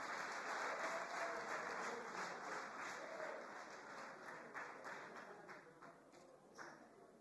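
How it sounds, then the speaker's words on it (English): An audience claps for a speaker at a talk, a dense round of applause that slowly tapers off, with a steady tonal hum behind it. "Clap for him some more."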